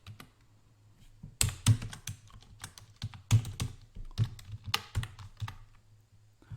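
Irregular bursts of clicky keystrokes sound from a computer keyboard as C# MVC web app code is typed in Visual Studio, close and fairly quiet over a faint low hum.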